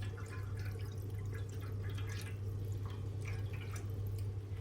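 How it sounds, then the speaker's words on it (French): About 100 ml of water poured into a tomato sauce for stuffed aubergines with minced meat, a close steady trickle and dripping splash over a low constant hum, without talking. "on va rajouter à cette sauce l'équivalent à peu près de 100 ml d'eau"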